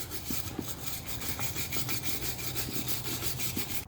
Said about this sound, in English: I just run the brush right through.